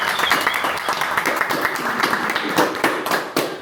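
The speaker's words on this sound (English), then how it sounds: "I'm going to give you an applause" Steady applause from a group, dense clapping that holds at a constant level for a few seconds with a few sharper claps standing out.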